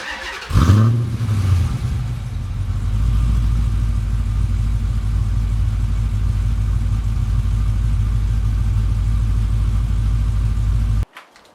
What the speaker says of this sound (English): finally starting it and hear what this new exhaust sounds like